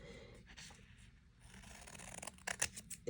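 Scissors snip along the dotted cut line of a small paper card for a Valentine mini card journal, a quiet run of crisp close-up cuts and paper rustling, growing busier toward the end, no talking.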